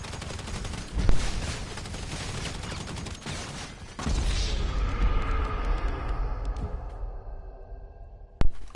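Shotgun fire in the video game GTA V: heavy blasts and rapid bursts of gunfire pile up in a dense, loud barrage, then ease into a ringing tail, with one final sharp shot near the end.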